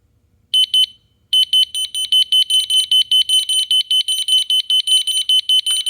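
A wireless interlinked smoke detector in broadcast mode sounds a loud, close alarm: a few beeps, a short pause, then a long fast run of rapid piercing electronic beeps.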